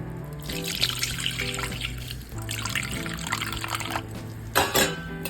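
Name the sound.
tamarind water poured onto mashed elephant yam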